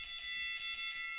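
A bright bell dings three times in quick succession, clear ringing chimes with a short decay standing alone without speech.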